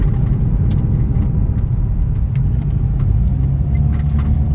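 Mazda RX-8 rotary-engine car running steadily nearby, a continuous low rumbling engine drone with no voices over it.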